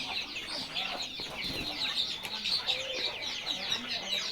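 Many young chickens, including forty-day-old tiger chickens and layers, cluck and chirp together in a busy flock, a dense, continuous chatter of birds close by.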